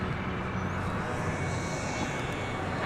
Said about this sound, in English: Here comes that 767 UPS plane.